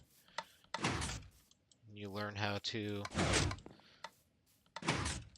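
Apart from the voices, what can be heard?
Minecraft redstone sticky piston door opening and closing, from a video game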